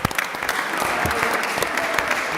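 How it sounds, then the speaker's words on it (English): Audience applause breaks out at a KSI Misfit 002 press conference, a dense, steady clatter of many hands clapping for security staff, filling the whole stretch with scattered cheers underneath. "give security a round of applause for getting up here and helping us out real quick"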